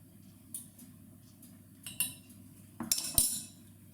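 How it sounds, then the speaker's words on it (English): A teaspoon clinks against a dish and jar while measuring cinnamon for oat muffins in a home kitchen, with a few light metallic taps and a cluster of sharper clinks near the end. "I'm going to get my teaspoon of cinnamon"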